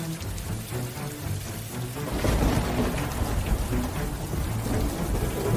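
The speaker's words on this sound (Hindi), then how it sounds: "हे भगवान, इतनी जोरों की बारिश, कहीं हमारी सारी मेहनत बह ना जाए।" Heavy rain pours down hard in a storm with thunder, a dense, loud, continuous roar that swells stronger after a couple of seconds and stays heavy throughout.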